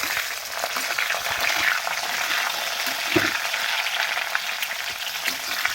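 Potatoes frying in a small wok, a steady dense sizzle with bright crackle throughout, close and loud with no talk.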